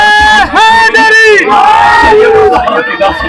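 A large religious gathering answers a Nara-e-Takbeer slogan with loud, sustained collective shouts, several swelling waves of massed voices close and dense, without a break.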